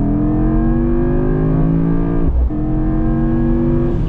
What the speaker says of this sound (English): Let's go with the Sport Plus full throttle.